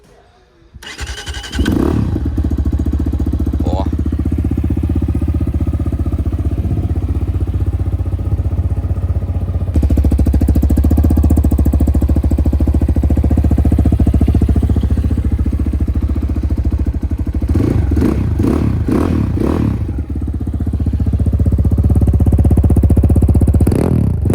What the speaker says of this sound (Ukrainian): включився мотоцикл.